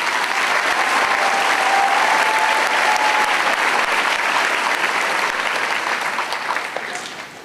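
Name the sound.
audience applause for elementary school chorus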